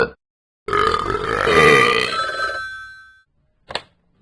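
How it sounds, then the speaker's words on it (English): A child lets out one loud, drawn-out burp lasting about two seconds, followed a moment later by a brief short sound. "Say pardon me after you burp?"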